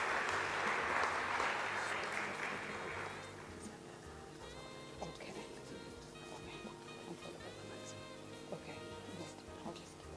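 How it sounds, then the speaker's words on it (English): A conference audience claps in a round of applause at a morning session, the dense clapping loud for about three seconds and then thinning into scattered claps under a murmur of voices and background music. "Please, may you please clap and give yourself a round of applause"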